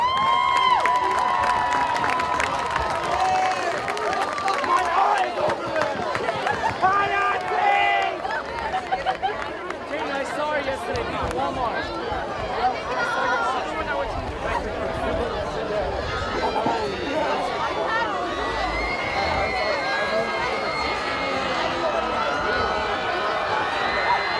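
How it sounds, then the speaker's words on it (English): A crowd at a high school football game cheers, shouts and applauds continuously, loud and dense, with children's voices and chatter mixed in throughout. "please give the Florida Falcons football and cheer organization a huge round of applause"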